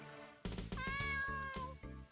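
A cat meows in the video game Jojo's Bizarre Adventure: The Seventh Stand User, one drawn-out, clear meow over rhythmic game music.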